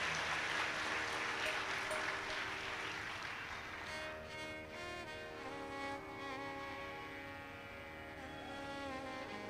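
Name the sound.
audience applause at a religious sermon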